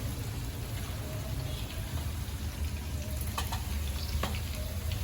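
Homemade black masala spices tipped into hot oil in a home kitchen sizzle and crackle steadily, with scattered sharp pops over a continuous frying hiss and a faint voice talking in the background.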